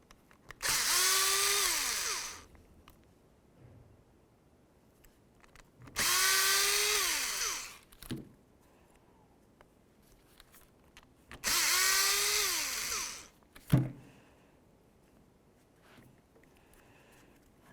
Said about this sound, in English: We're going to have to continue on with a T10 Torx bit to remove this screw right here